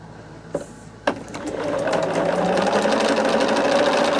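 A sewing machine stitches quilt pieces for a tree-of-life mystery quilt, starting after two soft clicks and then running in a steady, close, rapid mechanical whir.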